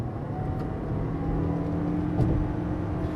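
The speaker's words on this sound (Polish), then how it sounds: "powoduje, że silnik benzynowy wskakuje na bardzo wysokie obroty" A 2019 Toyota RAV4 hybrid's petrol engine, coupled to an eCVT, holds at high revs with a steady, droning whir and mechanical hum, heard continuously from inside the car with no speech.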